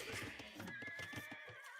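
Horse whinnying from a stable in Age of Mythology, a short, fairly faint neigh with a few soft hoof clops beneath it, heard alone.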